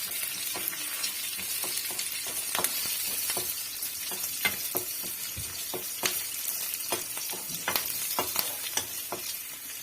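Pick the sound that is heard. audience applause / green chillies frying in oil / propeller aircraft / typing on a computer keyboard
green chillies frying in oil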